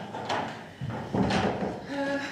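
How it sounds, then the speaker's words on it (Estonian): A door is pushed shut in a city government press conference room. A couple of dull thuds and a latch click sound nearby against a low background of room murmur. "siis saame ukse kinni panna, siis on kõrvalist müra vähem"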